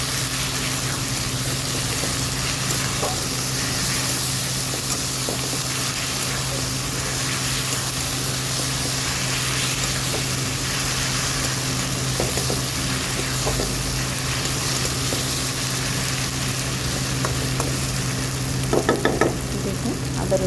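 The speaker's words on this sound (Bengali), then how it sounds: "আদা রসুন বাটা ভালো করে আমি ভাজা ভাজা করে নেব।" Ginger and garlic paste fries in a pan for a vegetarian paneer paturi, giving a steady, close sizzling hiss that runs without a break. A low hum sits underneath, and a few faint clinks come near the end.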